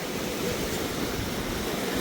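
Flooding Ib river rising quickly near a bridge, a steady broadband rush of fast-moving water that stays constant and dense throughout, heard alone with no voices.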